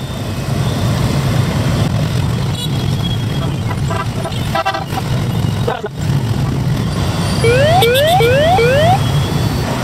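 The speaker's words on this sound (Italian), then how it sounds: "problema di oggi è attraversare la strada in Vietnam." Loud, dense street traffic in Vietnam, with a constant engine roar from passing vehicles, motorbikes close by and repeated short horn toots near the end.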